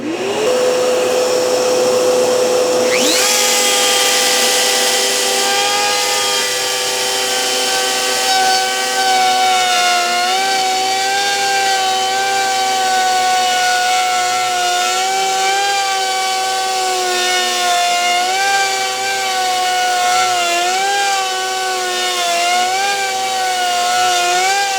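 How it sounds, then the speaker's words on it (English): A 3D pantograph router cuts wood while dust collection runs, a loud steady whine starting abruptly and holding near and constant, its pitch wavering slightly as the cutter moves through the wood, with no talking. "the dust collection seems to be working pretty effectively."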